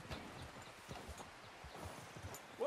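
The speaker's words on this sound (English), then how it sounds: "Is that horse okay, Arthur?" Horse hooves in the Red Dead Redemption video game, a quiet, steady clip-clop of a horse walking over ground, with a brief voice-like tone at the very end.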